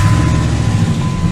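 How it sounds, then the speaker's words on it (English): A 2003 Dodge pickup's Hemi engine idles loud and close, a steady deep rumble with a low throbbing pulse and no talking. "That's the sound of a Hemi."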